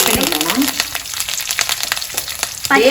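Mustard seeds and curry leaves sizzling in hot oil, a loud close crackling fizz with sharp pops and spatters throughout, swelling again at the end.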